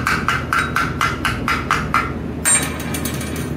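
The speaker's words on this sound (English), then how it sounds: "you always want to use a stainless steel brush when you're brushing aluminum" A stainless steel wire brush scrubs aluminum before field welding, making quick, evenly spaced scraping strokes that close by, then turns into a denser, rougher scrubbing.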